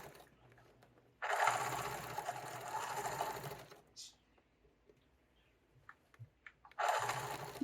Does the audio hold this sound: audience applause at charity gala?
no